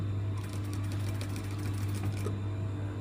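A sewing machine stitches fabric through a snagged needle that catches as it runs, giving a close, steady mechanical whir that holds evenly for the whole stretch with no talking.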